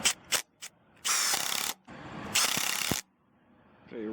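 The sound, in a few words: brushless impact driver on high mode driving construction screws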